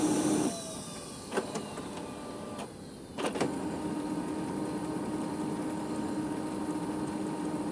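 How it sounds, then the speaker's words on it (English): A Brother MFC-L8690CDW colour laser printer starts up after its magenta toner cartridge is reinstalled, giving a few short mechanical clicks and whirs, then settling into a steady motorised hum that runs on. "And we wait and see what the printer does."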